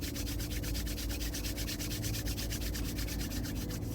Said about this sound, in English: I want you to just take your hands and rub your hands together.